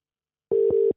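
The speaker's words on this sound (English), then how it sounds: "It's ringing." A phone call ringback tone heard through an iPhone patched into a Rodecaster: one steady electronic tone, loud and close, lasting about half a second with a brief dip midway, alone with no talk.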